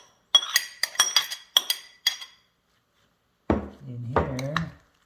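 Swai fish ceviche with cilantro and tomatoes being stirred in a bowl, giving a quick run of bright clinks and clatters, then a pause before a voice speaks briefly.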